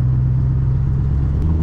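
A tuned Scania V8 truck engine roars in a loud, steady low rumble with the wheels spinning, close and continuous with no break.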